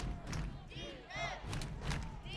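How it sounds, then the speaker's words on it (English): Loud football stadium crowd roaring from the bleachers during a Cal Lutheran vs. Chapman game, a sustained wash of voices with swelling shouts and thumps over the whole stretch, broadcast voices also present. "Listen to the roar of the crowd"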